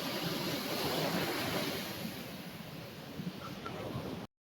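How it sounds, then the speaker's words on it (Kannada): Strong wind roars over heavy surf at Varkala beach, a steady broadband wash of crashing ocean waves that stays loud throughout before cutting off abruptly. "ಇಲ್ಲಿ ವಿಪರೀತ ಗಾಳಿ ಇದೆ, ಮತ್ತೆ ನೋಡಿ ಅದು ಅಲೆಗಳು ಹೆಂಗ್ ಭಯಂಕರವಾಗಿ ಬರುತ್ತೆ ಅಂತ ತೋರಿಸ್ತೀನಿ ನೋಡಿ ನಿಮಗೆ"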